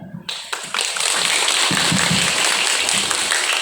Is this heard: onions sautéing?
no